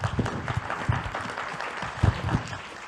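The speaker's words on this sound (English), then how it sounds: "Clapping for Scalia." Crowd clapping at a political rally, a rough broadband patter of many hands with louder bursts and a few voices cutting through.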